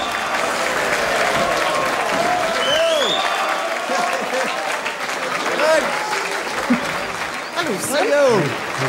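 Audience applause and crowd noise in a 1960s social club, steady and loud throughout, with voices calling out over the clapping.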